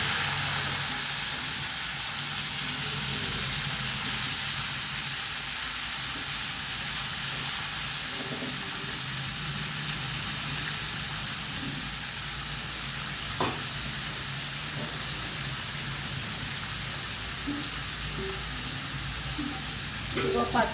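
Mustard seeds splutter and sliced raw banana fries in hot oil, giving a loud, steady sizzle and hiss with scattered pops that runs unbroken throughout.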